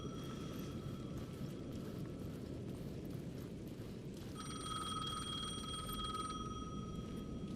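An old-style telephone bell ringing in the Alan Wake 2 video game, two bursts of sustained ringing separated by a pause, heard over a steady low ambient rumble.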